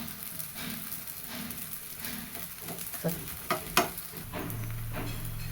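Rava uttapa fries on a hot pan with a soft, continuous sizzle and crackle, broken by a few light scraping taps as it is flipped, then a low steady hum.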